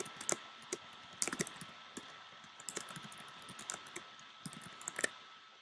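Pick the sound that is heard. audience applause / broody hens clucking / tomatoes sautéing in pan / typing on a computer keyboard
typing on a computer keyboard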